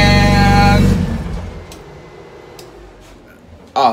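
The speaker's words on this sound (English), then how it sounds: "It's pretty loud, but it's crazy the happiness of turning on your car after you haven't turned it on in like a month" Honda Integra engine, loud right after starting following a month unused, a strong steady tone that drops away after about a second into a quieter hum. A short voice cuts in near the end.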